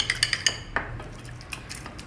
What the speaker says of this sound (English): Here I have some fresh homemade curd. Just whisk it well together.